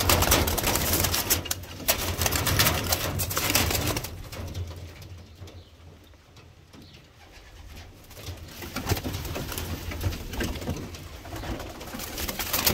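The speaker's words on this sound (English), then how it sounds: "It looks like a stencil pigeon right there." Pigeons coo in a loft aviary, soft repeated calls over steady background noise that dips briefly in the middle before rising again.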